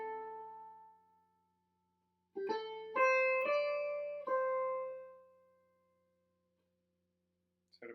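A single melodic instrument plays the opening phrase of a jazz standard. A few sustained notes ring out cleanly with pauses between phrases, set against near silence.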